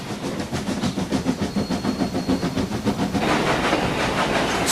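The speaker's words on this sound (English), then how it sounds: "You can tell it's a steam engine from the steam chuffing from the funnel on the boiler." Steam engine pulling a passenger carriage, chuffing in a fast, steady rhythm close by, with a brighter hissing rush of steam in the last second or so.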